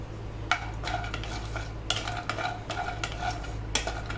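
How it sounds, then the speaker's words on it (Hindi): Dry fruits roast in a spoonful of ghee while a spoon stirs them. The scrapes and clinks are fairly quiet, with sharper taps recurring over a steady low hum, for a sheer khurma dessert. "कुछ ड्राई फ्रूट लिए हैं, इसको रोस्ट कर ले रहे हैं। 1 चम्मच घी इसमें डाले हैं।"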